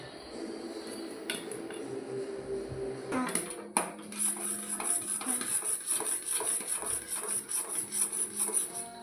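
Noodles being stirred in a pot on the stove, with close clinks and scrapes of a utensil against the pot over a soft sizzle, the stirring growing busier and more rhythmic partway through.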